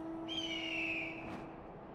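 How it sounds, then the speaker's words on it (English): A majestic bird call in a video game: a high, shrill screech sweeps down over a steady low tone and fades, with a short second burst at the end, fairly faint and with no talk. "I wish I could make such a majestic bird sound."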